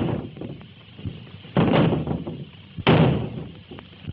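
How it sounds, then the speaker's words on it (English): Two men forcing a door down, with two heavy, loud slamming impacts against the wood about a second apart, scattered smaller knocks and scuffles between them. The recording is an old 1931 film soundtrack. "Help me get this door down."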